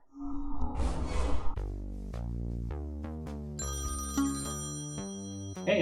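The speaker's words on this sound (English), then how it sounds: "Hey, phone's ringing." A telephone in the Textorcist game rings with a series of electronic tones repeating in a steady pattern, preceded by a brief burst of other game noise, clear and alone.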